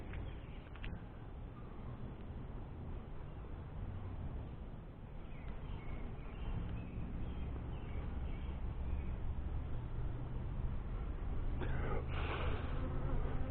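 Honeybees buzz continuously during a hive inspection, a dense close drone that swells slightly toward the end, with a few faint handling sounds mixed in.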